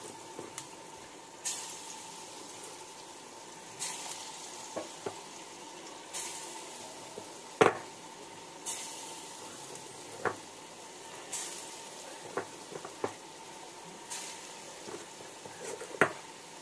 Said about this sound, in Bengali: কড়াইতে তেল দিয়ে দিয়েছি, দিয়ে কিন্তু আমি এগুলো ছোটো ছোটো করে ভেজে নেব